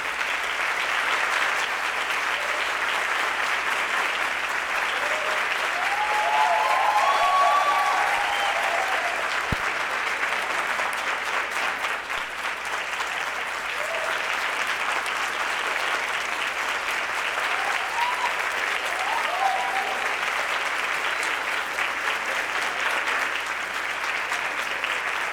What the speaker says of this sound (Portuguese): que esses aplausos aí sejam acolhidos em seu coração